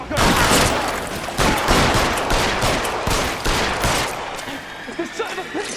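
Heavy gunfire in an L.A. Noire shootout, a dense barrage of overlapping shots in quick succession, loud and close, easing into scattered reports toward the end.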